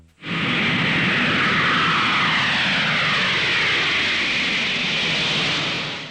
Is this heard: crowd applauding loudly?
no